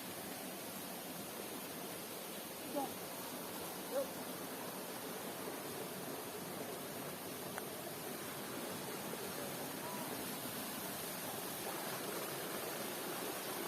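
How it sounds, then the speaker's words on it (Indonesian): A ten-metre waterfall on Mount Masigit, Bantarkaret, gives a steady, even broadband rush of falling water that holds throughout, with no speech and only a couple of faint clicks. "kami pun menemukan air terjun dengan ketinggian 10 meter"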